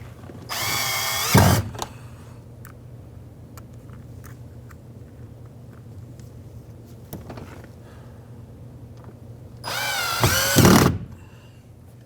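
A power drill drives trim screws into an Acura MDX door panel, two loud whirring bursts a few seconds apart and one faint brief pulse between them, with a quiet room in the pauses.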